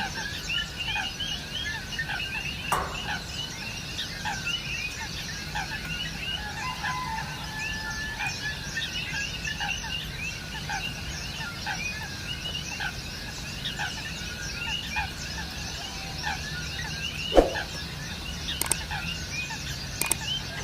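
Outdoor ambience at Uppalapadu Bird Sanctuary full of overlapping bird calls and chatter at a distance, with a few sharp clicks standing out now and then.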